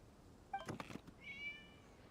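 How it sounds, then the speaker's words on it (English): A cat in the video game Genshin Impact gives one short, faint meow followed by a thin, drawn-out higher cry, set against quiet background ambience. "It was just a cat."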